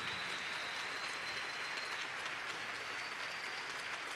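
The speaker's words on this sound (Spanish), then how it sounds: "Pido para ellos un reconocimiento, un aplauso" Audience applause at a political party swearing-in event fills the space as a steady, distant wash of clapping with no breaks, fairly faint.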